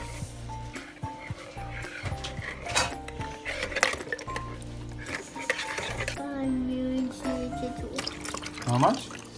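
Water is poured into a bowl of donut dough in a home kitchen, a brief liquid splash among clinking utensils and bowls, with people chatting over it.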